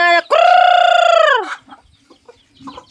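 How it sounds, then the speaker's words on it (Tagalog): Backyard pet chickens, with a loud rooster crow held for about a second, followed by scattered softer clucks and shuffling nearby. "ito rin po ang ating mga alagang mga manok."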